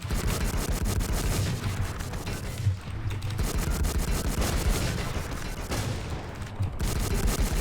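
Rapid bursts of gunfire in the video game Infestation Fantasy, loud and continuous with dense volleys and brief pauses, no speech heard.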